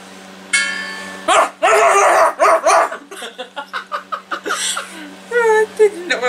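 A person imitates a dog with a string of loud, yappy barks in quick bursts, mixed with laughter and chatter.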